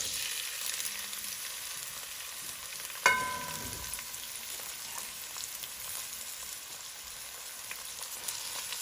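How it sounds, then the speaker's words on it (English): Onions, garlic, peppers and scallion sauté in a few tablespoons of hot oil for curry goat, making a steady, soft sizzle throughout with one brief clatter partway through. "I'm going to just saute that"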